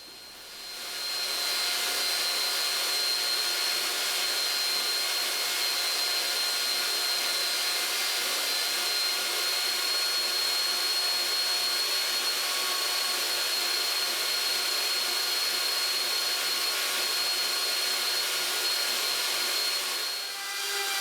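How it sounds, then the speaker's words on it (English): An oscillating spindle sander runs on the wooden base of a guitar stand, a steady loud whining drone with an abrasive hiss that starts after a short quiet moment and cuts off near the end. "So I take the oscillating spindle sander out one more time and start doing the base with it."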